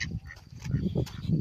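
A male Muscovy duck shut in a crate calls out to a female in a series of breathy, hoarse calls, close and fairly loud.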